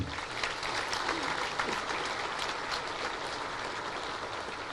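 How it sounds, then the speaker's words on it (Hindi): A large audience at a government speech applauds loudly, a dense, steady wash of clapping that holds evenly throughout without letting up. "जोर से ताली बजाना"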